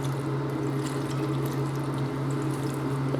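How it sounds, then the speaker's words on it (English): Water from a plastic water bottle pours into a blender for a healthy green smoothie, a steady continuous splashing trickle with no talk over it. "I'm just gonna pour in a quarter of this water bottle inside"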